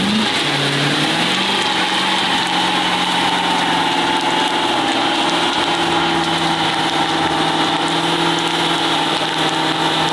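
A police car's engine runs loud and close for about ten seconds, its pitch climbing in a brief rev near the start before settling into a steady, throbbing idle, with no voices.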